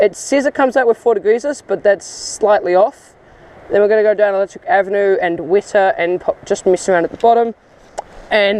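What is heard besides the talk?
No everyday noise stands out behind the speech.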